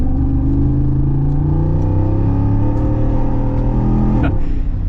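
Jeep Wrangler Rubicon engine rumbling as it sets off on an off-road trail, a loud, close, steady low drone with slight rises in revs throughout.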